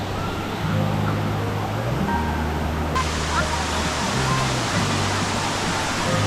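Than Thong waterfall in Sangkhom district, Nong Khai, Thailand, flowing as a steady, broad rushing roar close by, with faint low steady tones underneath.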